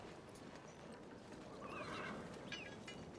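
Faint horses whinny in the distance, with a couple of rising neighs over a soft, hissing background and light hoof clatter.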